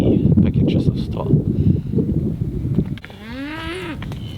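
Cattle grazing in a frosty field: a single rising-and-falling moo near the end, preceded by blustery wind and rustling close to the microphone.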